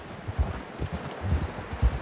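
Horse hooves in Red Dead Redemption 2 clip-clop in a steady walking rhythm, with low thuds close by for about two seconds and nothing else heard.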